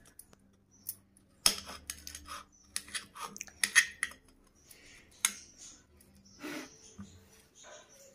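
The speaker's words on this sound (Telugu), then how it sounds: "చిన్న చిన్న ముక్కలుగా కట్ చేసుకోవాలండి" A knife chops papaya into small pieces on a board, giving irregular sharp taps and clicks at close range with quiet gaps between them.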